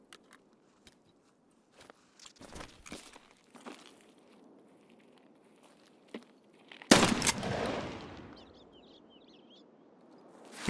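Video game gunfire with a headshot: scattered sharp clicks and shots over quiet, then a loud burst of gunfire followed by a fading noisy tail and a final thump.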